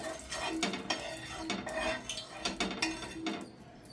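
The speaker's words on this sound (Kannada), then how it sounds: "ಎಣ್ಣೆನೆಲ್ಲ ಸ್ವಲ್ಪ ಚಲೋತ್ನಾಗಿ ಈ ಹಂಚು ತುಂಬ ಆಗೋ ಥರ ಈ ಥರ ಇದು ಮಾಡಬೇಕು" Oil spread across a hot pan before frying eggs for egg masala, heard as repeated metal scraping and clinking of a utensil against the pan in an uneven rhythm, close and fairly quiet, with no talking.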